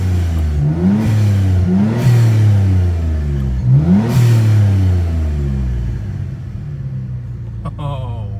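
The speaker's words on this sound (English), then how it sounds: "So let's do a little bit of revving here." A Mitsubishi VR4 engine running on E85 revs up several times in close succession, each rise climbing sharply before dropping back to a rumbling idle that settles lower near the end.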